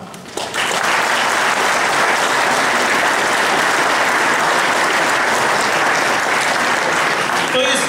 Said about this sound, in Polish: radnym powiatowym również należą się brawa